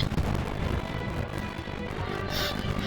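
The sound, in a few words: explosions from airstrike in Totally Accurate Battle Simulator video game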